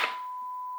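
A steady electronic beep from a DIY autopilot compass hookup signalling loss of connection: one sustained, clear tone lasting under a second, starting with a brief click.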